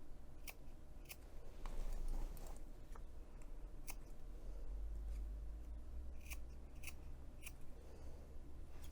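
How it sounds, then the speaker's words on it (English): Scissors make small quarter-inch snips into the curved edges of fabric while sewing a messenger bag. The quiet, crisp clicks repeat at an uneven pace against a faint background, with no talking. "I'm going to take my scissors and make little tiny clips that are about ¼ inch high."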